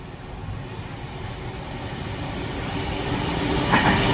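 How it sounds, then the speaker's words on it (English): A Class 390 Pendolino train rolls slowly through Rugby station on the West Coast Main Line, a steady broad rumble of wheels and rail that grows gradually louder, with no talk over it. "passing through here at rather snail pace is going to be some Pendolino of some sort, Class 390"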